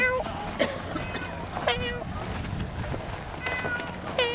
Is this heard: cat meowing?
yes